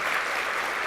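An audience at an alumni awards luncheon and ceremony applauds its award winners, a dense, steady wash of clapping that holds at an even level throughout.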